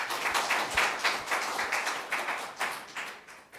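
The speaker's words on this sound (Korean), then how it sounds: "우리 한번 수고한 분들을 위해서 박수 한번 합시다" A church congregation gathered for an Easter and second-anniversary thanksgiving service applauds, a dense, lively spatter of many hands clapping in rolling waves throughout.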